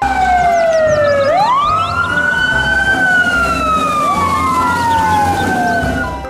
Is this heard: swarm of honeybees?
no